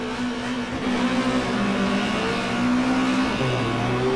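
A Peugeot 405 race car engine in the GTR2 racing game revs hard at a race start at Eastern Creek, with a sustained droning engine note rising and shifting pitch amid other cars around it.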